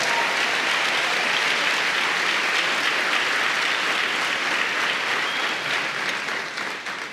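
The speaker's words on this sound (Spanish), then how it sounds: "Vamos, dele palmas al Señor por eso." A church congregation applauding during a sermon, a dense, loud, continuous wash of clapping from many hands that holds steady for several seconds before beginning to fade at the end.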